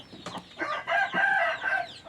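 A rooster clucks in a few short bursts close by, with brief pauses between the calls.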